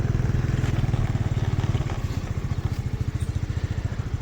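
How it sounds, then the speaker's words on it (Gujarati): A Honda Activa scooter rides along a groundnut farm path, its small engine throbbing close and loud in a steady, rapid pulse with faint rattles, and no voices. "અને આપણે એક્ટિવા ચલાવી રહ્યા છે,"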